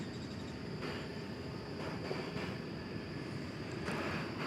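An airliner arriving from Wichita Falls touches down at DFW Airport, a distant, steady broadband roar of jet engines under faint outdoor ambience.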